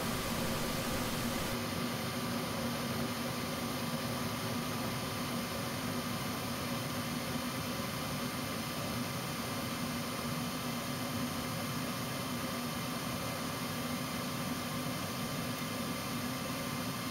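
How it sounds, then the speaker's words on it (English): Gas furnace main burner running, a steady loud broadband roar with a low hum and a faint high whine beginning shortly after the start, continuous throughout with no talking. "Then the main burner comes on."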